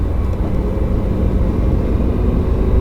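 A Lamborghini Huracan on a race circuit, its engine a loud, steady, close roar held throughout a short burst, with no talk over it.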